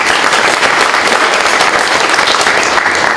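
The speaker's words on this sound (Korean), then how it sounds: "토론위원님들께 큰 박수 부탁드립니다" A large symposium audience claps steadily for a panel of discussants, a dense, loud, even wash of applause that holds at full strength throughout with no talking on top.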